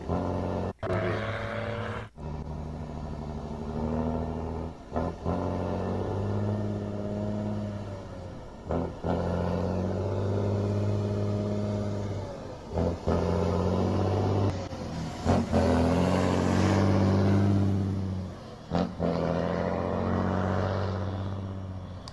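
A car engine roars and revs hard through repeated gear changes, with the loud, close drone climbing in pitch, cutting off briefly between shifts and surging again, while a voice speaks briefly.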